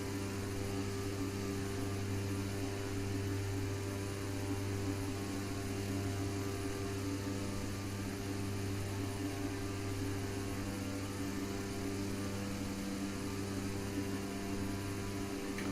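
An Embraer 120 turboprop cruises at altitude in the Prepar3d flight simulator, a constant droning propeller hum with steady low tones, unchanging throughout.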